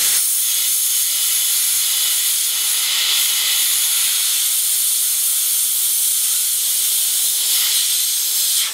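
A plastic welder's heat gun hisses steadily while warming ABS plastic along a crack in an Isuzu Trooper round headlight grille, a loud, continuous, close airy rush that holds even from start to finish with no talking.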